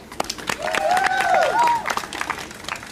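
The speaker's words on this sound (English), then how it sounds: "Our great Parks and Recreation leader, Leland Couch, let's give him a round of applause." A crowd at a Rock Creek Trail reopening claps in a round of applause for a parks and recreation leader, with a voice speaking over it and a whistle rising across the middle.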